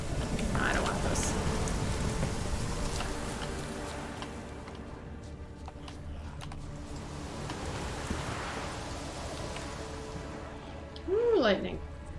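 Rain patters steadily in a Witcher 3 thunderstorm, with faint rumbles of distant thunder and a brief louder sound near the end; a voice talks over parts of it.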